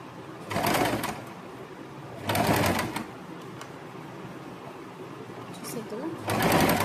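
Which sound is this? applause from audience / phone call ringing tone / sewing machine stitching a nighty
sewing machine stitching a nighty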